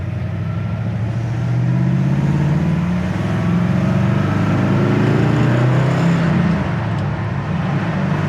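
1960 Ford Starliner with dual four-barrel carburetors running: a steady, close engine rumble with a low throbbing idle that swells slightly as it revs, continuous with no talk.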